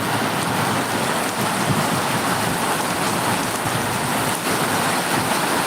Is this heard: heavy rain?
yes